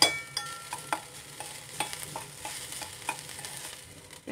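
Onions frying in a pan with chilli and tomato purée for a red chutney, a soft steady sizzle under a series of light utensil scrapes and taps spread across the moment, with no talking.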